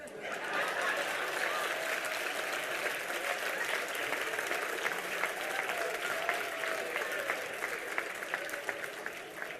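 An audience at an awards ceremony breaks into sustained applause, a dense, steady wash of clapping from many hands that carries on for several seconds at moderate distance.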